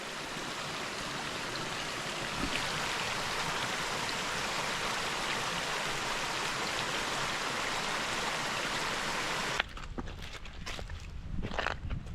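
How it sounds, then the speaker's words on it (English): Rushing water of a stream flooding over a hiking trail in Cheaha Wilderness flows loudly and continuously for most of the clip, then cuts off to quieter outdoor sounds with a few footsteps. "all of that water is making its way down. It's flooding out the trail in places"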